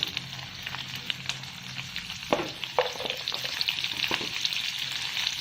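Chopped okra fries with cumin in hot oil, making a steady bright sizzle close by, broken by a few sharp spatula scrapes and clinks as it is stirred.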